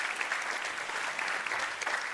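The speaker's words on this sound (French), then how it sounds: "Qu'on peut applaudir, je pense, encore une fois." An audience at a regional sports merit awards ceremony claps for an honoree: dense, even applause from many hands, steady and fairly close throughout, with no voices over it.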